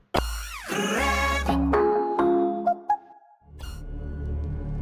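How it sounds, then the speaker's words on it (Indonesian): A ride-hailing app notification chimes on a phone in a series of bright, ringing electronic tones that rise and sweep, then fade and start again. "Tiba-tiba, aplikasi ojek online saya berbunyi."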